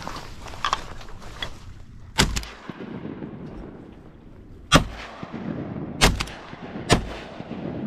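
Shotguns fired during a Missouri duck hunt, several sharp loud booms spaced irregularly with echoing decay and quieter rustling and splashing between them outdoors.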